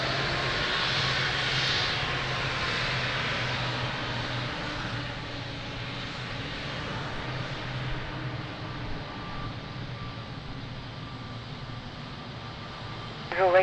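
A Boeing 777 jet at Lisbon Airport gives a broad, steady roar of engine noise that fades slowly over the whole stretch, with a brief rise at the end.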